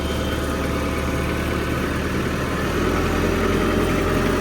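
A tractor engine idles at a steady low rumble while the machine backs up, loud and close with a constant vibrating drone and no talk over it.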